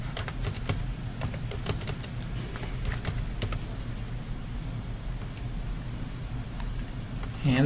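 Quick bursts of keypresses as a network name is typed on a keyboard, a run of clicks in the first half and then a few more spaced taps, over a steady background hum.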